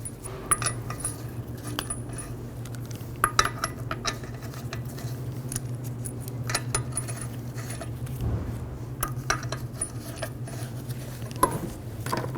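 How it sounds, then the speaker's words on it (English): Lug nuts are threaded by hand onto the rear wheel studs of a 2007–2011 Toyota Camry after a wheel bearing and hub replacement, giving faint, scattered metallic clinks and small rattles against a quiet background. "Get the lug nuts started."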